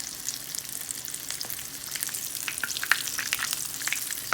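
Goat cheese pan frying in hot oil, a steady crackling sizzle with scattered pops, fairly soft and alone.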